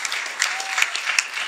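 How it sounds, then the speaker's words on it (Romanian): Audience applause for a startup at a comedy roast show, a dense burst of clapping from a live crowd, steady and fairly loud throughout the short moment. "aplauze pentru startup-ul ăsta"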